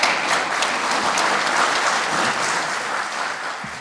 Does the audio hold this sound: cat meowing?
no